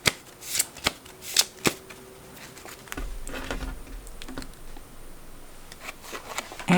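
Tarot cards shuffled by hand during a reading, a run of crisp riffling bursts and slaps at first, then a softer continuous shuffling patter that carries on to the end.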